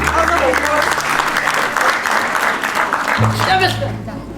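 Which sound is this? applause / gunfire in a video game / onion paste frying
applause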